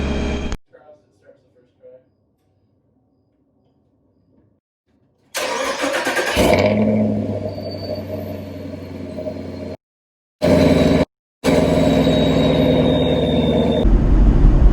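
A 2019 Camaro SS 1LE with freshly installed spark plugs starts up and pulls away, its V8 rumbling loud and close with rising revs, a couple of brief cut-outs, and a steady drive-by roar through the rest.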